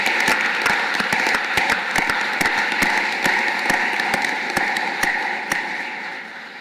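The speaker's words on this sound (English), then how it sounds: "So we have a round of applause for all our new members." Audience at a Royal College of Physicians of Ireland membership ceremony gives a round of applause for new members, a full, close clapping sound with crisp individual claps standing out, slowly fading toward the end.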